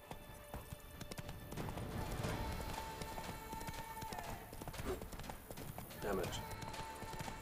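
Hooves of Roach, Geralt's horse in The Witcher 3, clip-clop steadily through a riding course, with a brief whinny near the end and someone talking over the ride.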